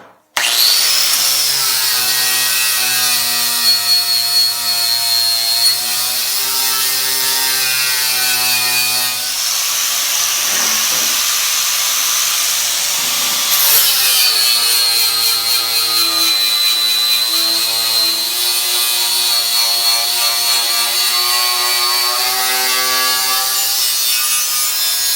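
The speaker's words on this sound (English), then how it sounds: "Now I'm just going to grind off the paint, put a little bevel on them," A grinder strips paint from cut steel pieces and bevels their edges for a bench grinder stand, making a loud, continuous, high-pitched whine that roughens and shifts midway before steadying again.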